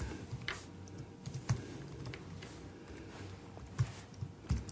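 Typing on a computer keyboard, a run of light irregular key clicks with a few sharper louder taps, close and alone.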